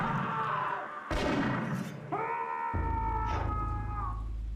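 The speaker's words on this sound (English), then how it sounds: "we heard gunshots" Gunfire in the Eternal Darkness: Sanity's Requiem video game, a sharp loud blast bursting out of eerie sustained tones and a deep rumbling drone, followed by a second fainter crack amid the ominous hum.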